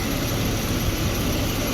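A Chevy Silverado's 4.3L V6 Vortec engine idling, a steady, even low rumble with constant broadband hum, close and unchanging throughout.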